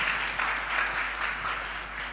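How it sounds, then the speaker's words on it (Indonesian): Congregation applauding in an Indonesian church service: a continuous, full wash of many hands clapping at once, steady and fairly loud, with a slight rhythmic swell and no talking over it. "berikan tepuk tangan bagi Tuhan kita"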